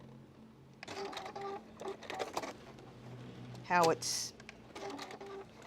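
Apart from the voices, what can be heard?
sewing machine stitching a quilt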